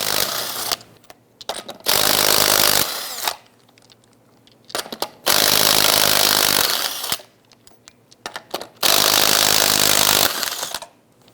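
An impact wrench with a 19mm socket removes lug nuts from a 1999-2004 Jeep Grand Cherokee wheel. Three loud, close rattling bursts are separated by short pauses.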